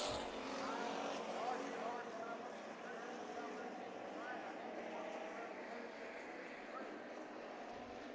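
Hobby Stock race cars on the track at Bakersfield Speedway during heat races, their engines a steady distant roar that stays fairly constant, heard beneath an announcer calling the action.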